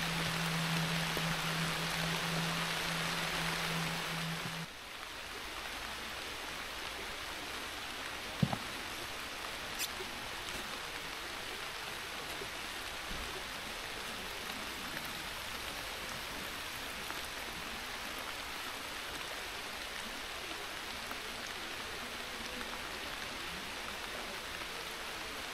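Steady rain falls during a fishing session beside the water, a dense even hiss with no talk, while a low hum fades out in the first few seconds.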